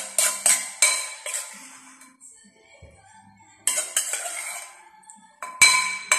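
Metal utensils clink and scrape against a dish as papaya salad is scooped out, a series of sharp close clatters in bursts with quieter pauses between.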